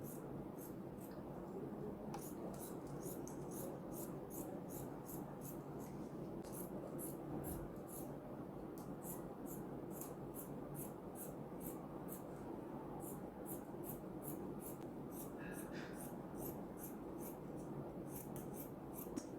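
Scissors cutting fabric along a drawn back neckline for a half-circle flare gown, heard as steady repeated crisp snips in a regular rhythm over a constant background hum, close and faint.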